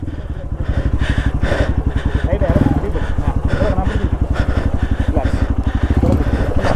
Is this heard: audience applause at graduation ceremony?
no